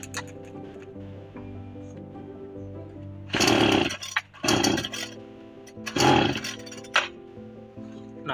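An electric hair trimmer edges up a haircut. A steady close buzzing hum runs throughout and is broken by several loud, rough bursts as the blade works along the hairline.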